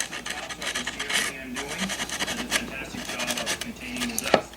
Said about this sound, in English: I have to end up sanding them down anyway